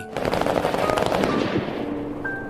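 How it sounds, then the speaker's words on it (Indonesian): Rapid machine-gun fire from a war film about French special forces fighting the Taliban, a dense burst of sharp shots that is loud at first and then tapers off. "akhirnya Maina bersama dengan beberapa orang lainnya tewas ditembak mati."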